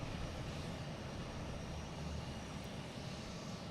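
A JetBlue airliner at Boston Logan airport makes a steady, low engine roar that holds at an even level throughout, without talk.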